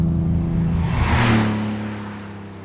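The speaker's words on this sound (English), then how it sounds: "The sounds of this car are just unreal." A 1999 Nissan Skyline R34 GT-R tuned past 800 horsepower revs hard close by, its deep engine note rising and holding before easing off toward the end, with no voices.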